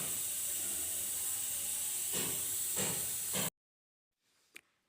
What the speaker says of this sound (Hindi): थोड़ा सा प्रेशर मैंने चाकू से ही निकाल दिया।